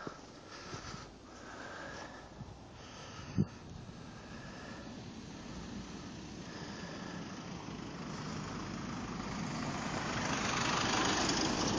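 A car engine idles at a snowy Stockholm suburban town centre early on a February morning, a steady low rumble with a brief sharp knock near the middle and a slowly swelling hiss toward the end.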